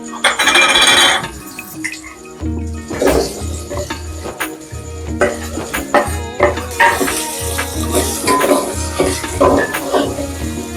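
Potatoes and spices are stirred in a pan in a village kitchen, with a spoon clinking and scraping against the metal in quick, busy clatters, close and loud, over a constant tonal background.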